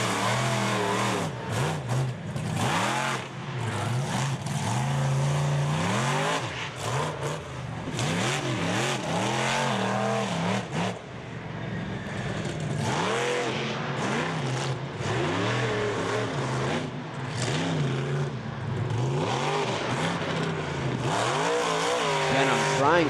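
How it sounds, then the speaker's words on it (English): A monster truck's engine revs hard in a freestyle run at an Indianapolis arena event, the sound rising and falling over and over as the truck slides, loud and continuous, with an announcer talking over it. "Trying for another slap wheelie, sliding the truck."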